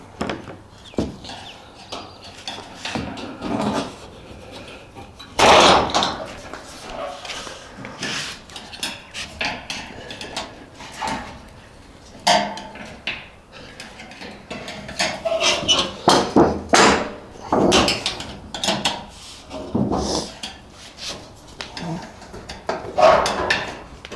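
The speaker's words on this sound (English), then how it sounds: "Screwdriver will do on these. You can just sort of pry them off" Screwdriver prying tin plates off a plastic IBC tote, with scattered sharp metallic clicks, scrapes and knocks at irregular intervals, fairly close, amid handling noise.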